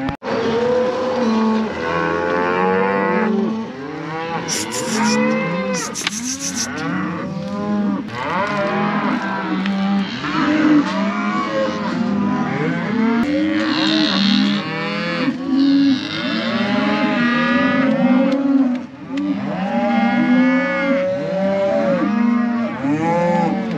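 Cattle bellowing and mooing repeatedly while cows, calves and bulls are sorted, many overlapping calls near and far, loud and continuous with a few clanks of gates.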